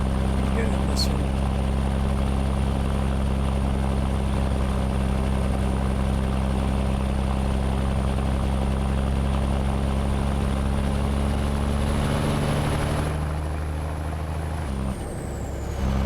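Cummins 855 truck engine in American Truck Simulator, droning steadily and close with a deep, even rumble throughout, then dropping off abruptly near the end.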